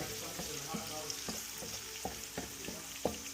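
Garlic fries in a pan for a noodle and ribs meal, with a soft continuous sizzle broken by regular scraping taps from stirring, fairly quiet and without talk.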